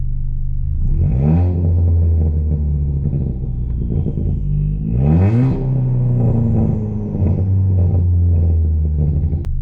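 A straight-piped Ford Fiesta ST180 revs twice, its exhaust rising sharply and falling back to a loud, steady idle rumble between and after the blips.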